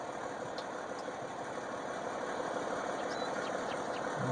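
A tractor engine in Farming Simulator 19 idles and hums at a steady low level, swelling slightly near the end, with faint mechanical clicks over it.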